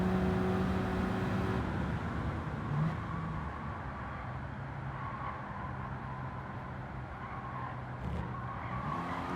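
Car in Gran Turismo 7 coasting through a corner off the throttle, with a low engine drone and faint tire noise, steady and moderately quiet, engine tone shifting slightly partway through.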